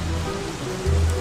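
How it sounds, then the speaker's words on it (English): Steady rain hiss falling in the survival video game Don't Starve, a broad even wash of drops with a low rumble swelling near the end, heard alone without talk. "Oh no, it's raining."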